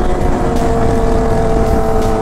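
A motorcycle ridden with friends on a group ride drones loudly and continuously at close range, a steady engine tone with no clear rise or drop through the short stretch, and wind noise rushes around it.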